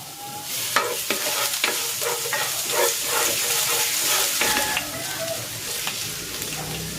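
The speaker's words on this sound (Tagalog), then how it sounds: "Iglalagay ako ng cooking oil. Igigisa ko na tong bawang." Garlic sautés in cooking oil in a pan, a steady bright sizzle broken by repeated scraping stirs, close and loud with no talk.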